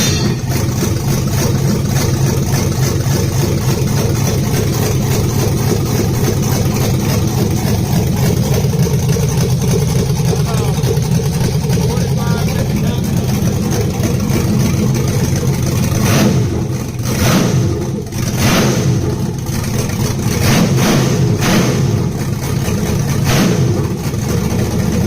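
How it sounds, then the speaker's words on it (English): A carbureted LS V8 with a race cam runs close by with a loud, lumpy idle, then blips through several sharp revs before settling back into its choppy rumble. "That's that 3/4 race cam right there. Sounds pretty good."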